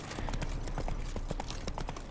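Horse hooves clip-clopping in the video game The Witcher 3, a quick, quiet, steady trot over a faint ambient background.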